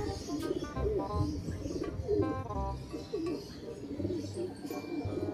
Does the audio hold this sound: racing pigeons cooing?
yes